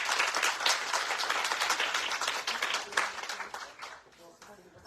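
Conference audience clapping for a speaker, a fairly quiet, steady patter of applause that tapers off over a few seconds before a voice resumes.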